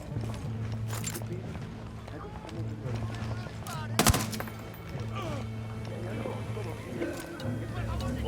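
Scattered gunshots in Ghost Recon Wildlands, a few sharp cracks including one loud close shot midway, set against steady background drone with voices talking throughout.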